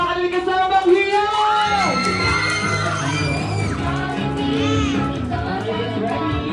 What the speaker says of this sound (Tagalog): Isang masigabang palakpakan ng kasama ang hiyaw!